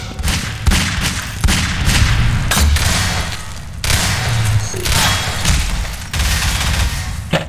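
Rocket explosions and weapon fire in a Half-Life 2 Deathmatch match ring out as a rapid series of loud, heavy booms and bursts, close and repeated with short gaps.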